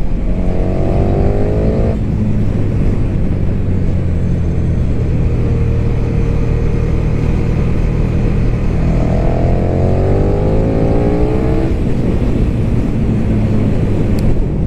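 2020 KTM 1290 Super Duke R motorcycle engine accelerating on the road, heard close and loud with two rising revving sweeps through the gears over steady engine and wind roar.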